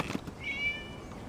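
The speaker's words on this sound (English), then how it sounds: "It was just a cat." A single short cat meow from the video game Genshin Impact, clear and close, over a quiet background with a brief soft thump just before.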